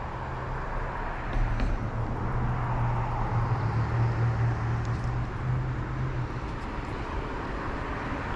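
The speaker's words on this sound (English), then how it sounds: "Sorry for the car noise." Road traffic near the San Marcos river forms a constant low, steady rumble and rush that fills the whole stretch, with no talking.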